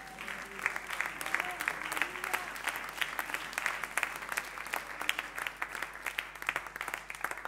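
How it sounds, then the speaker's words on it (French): A church congregation claps and applauds the Lord together, a steady, moderately distant patter of many hands with a few faint voices mixed in. "Est-ce qu'on peut acclamer le Seigneur"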